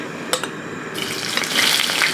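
Bitter gourd fries in hot oil with a steady, close sizzle that swells louder toward the end, broken early by a couple of sharp clicks from a utensil.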